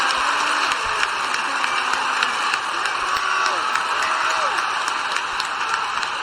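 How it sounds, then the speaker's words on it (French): A canned applause effect played over a French improv-theatre stream, a continuous hiss of dense clapping and crowd noise running throughout, with faint voices underneath. "je vais envoyer les applaudissements pour cette impro, mais pour la précédente aussi"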